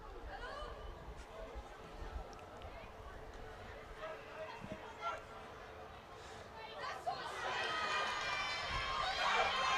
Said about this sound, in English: Shouts from the crowd saying it's not straight,